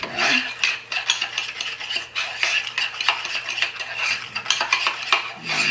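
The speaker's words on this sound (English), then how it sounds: "then we're gonna just keep mixing" Powdered sugar glaze being stirred in a bowl, a steady scraping and clinking of utensil against the bowl that continues throughout, close and fairly loud with no voices.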